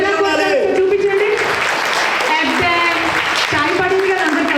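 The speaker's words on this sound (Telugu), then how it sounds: "కమ్ ఆన్ క్లాప్స్ చూపించండి" At an emcee's introduction, an audience claps on request amid loud cheering and shouting voices, the clapping thinning and swelling over a few seconds.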